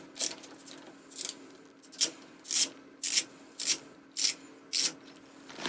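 A motorcycle front brake cable being worked free of its handlebar lever gives a string of about nine short, scraping rasps at a steady rhythm, close and clear, with no talking.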